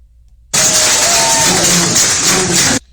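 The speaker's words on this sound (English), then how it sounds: "And why you guys clapping?" Audience at a tense political town hall breaks into sustained loud clapping and cheering, a dense wall of applause that starts abruptly and cuts off after a couple of seconds.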